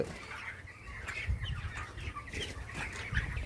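Chickens on a poultry farm, a flock clucking and calling with scattered bird sounds and occasional wing flaps, steady and fairly close throughout.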